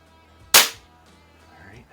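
A single sharp, close crack from a Baikal IZH-46M air pistol aimed at a 10 m target in a garage, with a brief decaying tail and a quiet room afterward.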